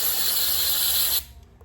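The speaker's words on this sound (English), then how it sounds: "Can I spray contact cleaners?" Contact cleaner sprays in a steady loud hiss onto a fouled spark plug from a Kawasaki Bayou ATV, then cuts off abruptly, leaving faint clicks and handling noise.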